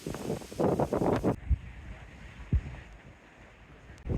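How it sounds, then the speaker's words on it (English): Strong gusting wind buffets the microphone on exposed hills along Hadrian's Wall during a storm, loud rumbling bursts at first, then quieter low gusts with occasional thumps. "It's really windy up here."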